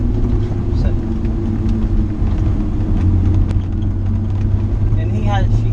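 Car fitted with aftermarket coilover suspension driving on a canyon road, a steady low engine and road rumble droning continuously from inside the cabin, with occupants chatting over it.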